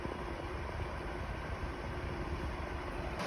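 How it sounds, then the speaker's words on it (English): Steady broadband whoosh of a Ryobi 4-inch clip fan on its low setting blowing directly toward the recorder, close by, a constant rushing air noise with no other sounds. "This is the sound of the fan on low, blowing directly to the camera."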